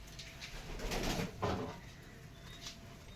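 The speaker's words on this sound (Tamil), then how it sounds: "எல்லா வகையான புறாவும் இருக்குது" Pigeons of mixed breeds coo in a garden loft, their soft, throaty calls repeating close by over faint outdoor background.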